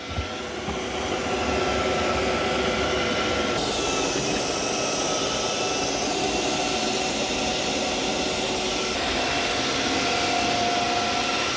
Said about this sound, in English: we're going to see how the Yui S1 cleans this muddy paw prints